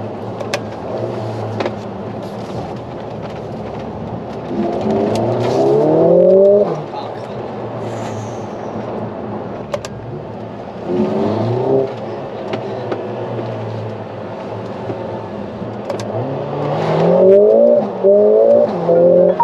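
A Mercedes-AMG A45 S revs hard through first and second gear, with repeated rising engine pulls separated by brief shifts, heard from inside the car at moderate loudness.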